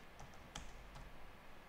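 A handful of quick keystrokes on a computer keyboard as a new password is typed, light irregular clicks spread over a second or two against a quiet background.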